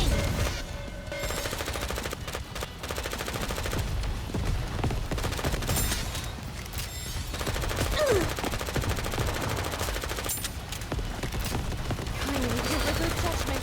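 Sustained, loud rapid-fire gunfire in the mobile shooter Goddess of Victory: Nikke, with overlapping automatic bursts and impacts rolling on almost without pause and only brief dips in intensity.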